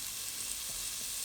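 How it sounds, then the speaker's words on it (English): Steady, soft sizzling of chorizo and onion frying in a pan, a continuous bright hiss with faint crackles, fairly quiet and close. "So after a minute or so it has started to sizzle"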